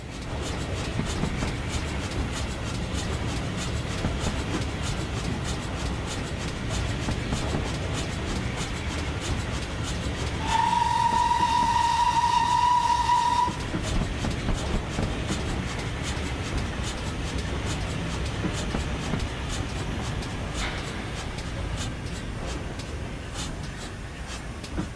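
A GWR 6000 King Class steam locomotive in Train Simulator rumbles steadily with rhythmic mechanical clatter, and a loud sustained whistle blows for about three seconds midway.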